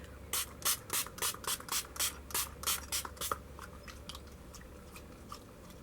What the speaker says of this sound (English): I just spray that all over my face